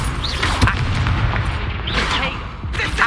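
An Incendio fire spell blast in Hogwarts Legacy, a couple of whooshing bursts with booming low-end impacts, close and fairly loud over a background of game ambience.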